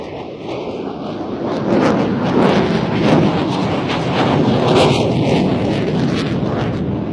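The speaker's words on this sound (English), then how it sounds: "the F-16 enters another 360, really pulling hard to complete this turn" F-16 fighter jet pulling a hard 360-degree turn, a loud, continuous engine roar that swells slightly partway through and holds steady without breaks, with no voices.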